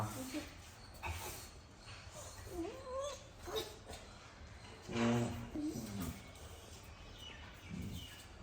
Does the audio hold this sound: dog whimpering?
yes